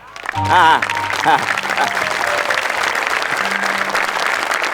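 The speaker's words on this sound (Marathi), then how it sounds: "वाजवायच्या टाळ्या" An audience claps throughout a Marathi comedy stage show, with steady applause running under a man's brief spoken and sung phrases near the start.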